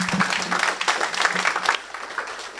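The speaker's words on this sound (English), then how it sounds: "let's give a big round of applause to Kwaku Sakyi-Addo" An audience in a hall gives a warm round of applause, dense overlapping claps continuing throughout and easing slightly toward the end.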